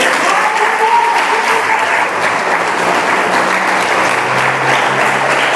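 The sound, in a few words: audience applauding Jesus in church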